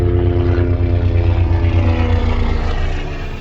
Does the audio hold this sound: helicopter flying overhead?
yes